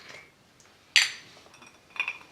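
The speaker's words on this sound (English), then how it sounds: "Gonna grab my glass that has a ice ball in it." A glass holding an ice ball clinks sharply once up close, followed by a fainter pair of clinks a second later, with quiet room tone between.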